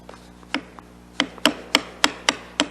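A chisel is tapped to knock a wedge of wood from hand-cut dovetail tails held against a bench hook: seven or so sharp, close wooden knocks, spaced irregularly and then in a quicker steady run.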